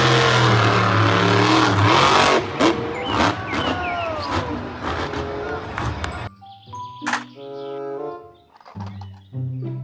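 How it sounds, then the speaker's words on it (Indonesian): A monster truck engine revs hard in a loud, gritty roar with rising whines. It then cuts to sparse, choppy mechanical sounds and brief tonal bursts, with a voice speaking over parts of it. "Mobil truk monster."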